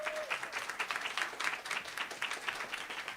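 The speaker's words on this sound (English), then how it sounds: "Bet, give a round of applause." Fairly faint applause from a town hall audience at a free healthcare event, dense and steady clapping throughout.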